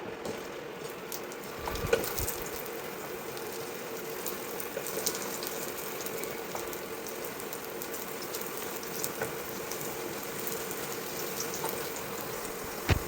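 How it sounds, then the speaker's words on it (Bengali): Potatoes hiss and fry in a hot kadai, a steady broad sizzle running throughout with occasional small clicks and clatters, close and continuous with no talking. "কড়াই গরম হয়ে গেছে, এবার আমরা এতে আলুটা ছেড়ে দেবো।"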